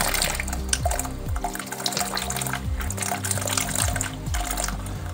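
Water runs and gurgles steadily while an undergravel filter in a shrimp tank is flushed and cleaned, a close, continuous pouring stream with small bubbling bursts throughout and no talk.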